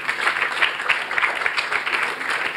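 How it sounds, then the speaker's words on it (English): An audience at a sales leadership event in London applauds steadily, a dense, even wash of many hands clapping at moderate loudness from across the room, with no words spoken over it. "Round of applause."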